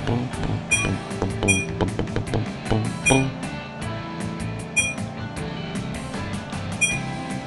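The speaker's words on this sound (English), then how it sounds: "Great coin collecting, Umi friend!" Coin collecting in the racing game Team Umizoomi: Math Racer, a rapid run of bright chiming pickup tones repeating over busy game music, with no talk.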